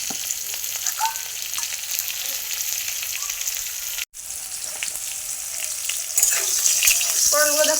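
Pointed gourds (potol) fry in oil with a steady, loud crackling sizzle, a brief dropout near the middle, then the spitting grows a little brighter toward the end; no one speaks.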